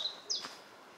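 Two brief, high chirps from a small bird ring out faintly outdoors at Beacon Fell, over a quiet background with no talk.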